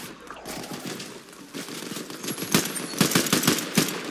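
Rapid automatic gunfire in a shooting video game, with bursts of dense, crackling shots that grow louder and tighter toward the end over a steady game background.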